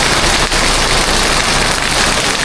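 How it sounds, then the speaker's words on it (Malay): Steady rain falling outdoors in Mukah, a dense, loud, continuous hiss with no speech. "Hujan dek. Hujan."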